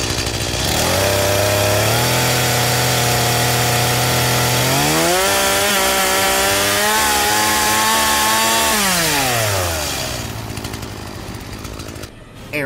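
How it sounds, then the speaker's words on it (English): A chainsaw fires up and runs at a loud, steady whine, its pitch climbing as the throttle opens and holding high before dropping back to a lower idle and fading. "The chainsaw ignited and swung through the air towards her."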